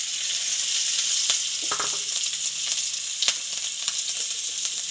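Rice sizzling as it fries in a small amount of oil, a bright steady hiss with a few scraping stirs and light clinks, close up and with no voices.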